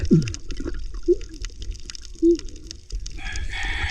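Chickens clucking and squawking nearby in short bursts, with a brief splash of water and background clatter.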